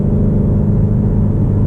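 Ford Mustang Shelby GT350 with a flat-plane crank engine holds a loud, steady, deep exhaust rumble, close and continuous, with no voices over it.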